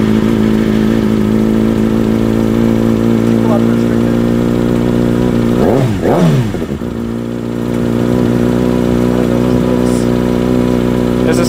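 A motorcycle engine fitted with a quieter exhaust insert idles loudly and steadily with a droning, even tone, dipping and swelling briefly once midway before settling back into its constant run.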